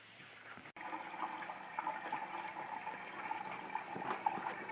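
An intercooler pump on a 2003-2004 SVT Cobra runs steadily, with a continuous hum and faint liquid gurgling throughout and one brief dropout near the start.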